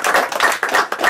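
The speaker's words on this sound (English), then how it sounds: "How about a round of applause for Moses?" Audience clapping at a course wrap-up, loud and close, coming in rhythmic surges of brisk hand claps that rise and dip every few tenths of a second.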